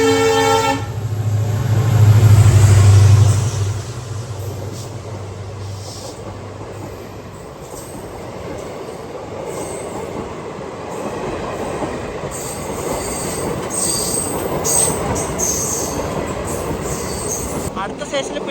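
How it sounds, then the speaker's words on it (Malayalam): A Kolkata–Silchar special train passes on a crossing station, opening with a loud sustained horn blast, then a long steady roar of wagons and wheels with high squeals running alongside, close and loud throughout. "ഇത് കൊൽക്കത്തയിൽ സിൽച്ചർ പോകുന്ന ഒരു സ്പെഷ്യൽ ട്രെയിൻ ആട്ടോ. അത് തന്നെ ക്രോസ് ചെയ്ത് പോവാണ് നമ്മളെ."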